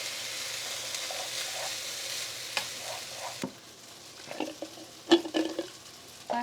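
Food being stirred in a pan with broth and tofu, a soft background sizzle with intermittent scraping and clinks of a utensil that grow busier near the end; fairly quiet, close, and with no voices.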